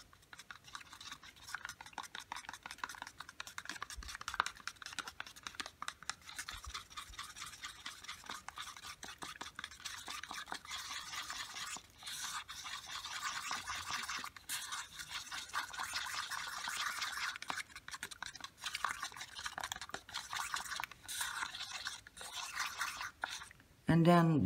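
Acrylic paints and pouring medium being mixed, a faint, continuous scraping and stirring with a quick rhythm, ending in a sudden louder knock.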